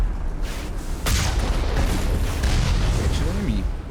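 Heavy gunfire in the video game Mass Effect aimed at the player, with booming shots and bursts layered over a dense battle din, the loudest blast about a second in, and faint in-game voices mixed in.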